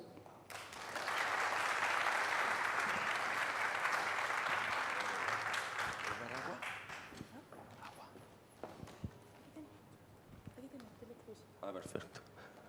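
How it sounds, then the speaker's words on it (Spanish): Audience applause for a speaker being introduced at a migration and development congress in Chile, a dense, loud burst of clapping that swells for about six seconds, then thins into scattered claps and shuffling as talk resumes. "quisiera que todos diéramos un fuerte aplauso a don Óscar Rojas"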